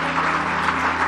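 A church congregation claps during a service in a dense, steady burst of applause that fills the room for about a second.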